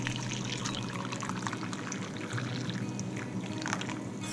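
Hot water pours steadily into a tea cup, a soft continuous trickle at moderate closeness with no talking over it.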